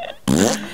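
A single loud, buzzy fart sound effect lasts about half a second, sounding right after a quieter tonal blip.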